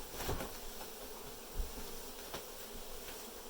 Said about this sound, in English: do I have a bee crawling on my ear?